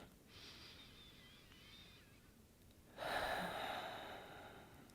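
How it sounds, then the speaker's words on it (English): A person takes a couple of deep breaths, close and quiet: a soft long inhale, a pause, then a louder, breathier exhale that trails away. "I'm going to take a couple of deep breaths here first."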